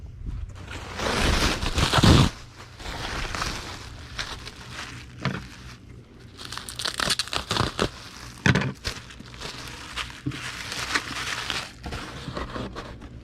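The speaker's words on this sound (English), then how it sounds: "We'll need a sheet of bubble wrap that we'll cut in half." Plastic bubble wrap sheet being handled, crinkled and cut in half, with loud crackly rustling bursts and crunchy handling noises coming close and in irregular bursts, no voices.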